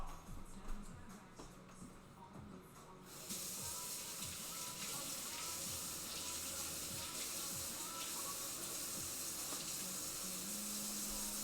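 Water from a tap rinses debris off a bird's nest in a sink, a broad steady hiss that starts softer and jumps louder after a few seconds, then runs evenly to the end.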